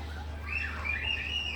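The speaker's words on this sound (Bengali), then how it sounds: "দেখেন ওর কবুতর, অনেক কবুতর আছে যেটা তারা বসে থাকে ওইখান থেকেই ফ্লাই করে" Birds chirp and tweet softly around a rooftop pigeon loft, short warbling calls over a constant low hum, with no voices.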